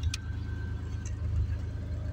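A 1967 Pontiac GTO V8 with a Hurst dual gate shifter idling just after starting, a steady low rumble with a faint ticking pulse, close and continuous.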